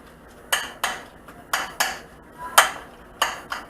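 Apple pancake batter being mixed in a bowl, with about eight sharp clinking strikes of a utensil against the bowl in an uneven rhythm, close and clear over a quiet background with no talk.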